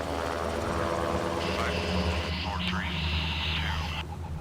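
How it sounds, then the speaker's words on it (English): Helicopter rotor and engine drone holding steady in a hover during a combat rescue, loud and continuous throughout with a faint rising whine partway through. "I instantly was able to get control of the aircraft into a solid hover."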